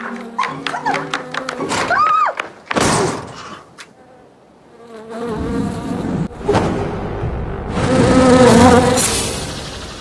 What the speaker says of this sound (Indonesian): tiba-tiba seekor tawon mendekatinya hingga Yunbom pun berlari menghindarinya